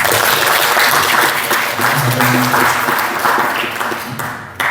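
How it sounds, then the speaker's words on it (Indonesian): Loud, sustained applause fills a hall at an inauguration ceremony for the PPI UAE student association chapter at the Indonesian consulate in Dubai, steady clapping from a large audience that tapers slightly near the end. "Tepuk tangan untuk PPI Timur Tengah."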